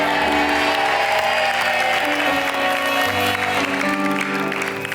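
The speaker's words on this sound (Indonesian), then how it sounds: "Boleh kita berikan tepuk tangan untuk Anggun." A studio audience on a televised dating show applauds, with dense, loud, sustained clapping layered over music, while crowd noise continues throughout.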